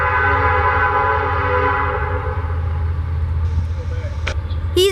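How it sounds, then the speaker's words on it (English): A loaded Norfolk Southern coal train rolls past in Norfolk, Virginia, its loud, steady rumble and grinding rail noise close by, with a brief horn-like tone, a sharp squeal near the end and voices underneath. "we have a loaded coal train"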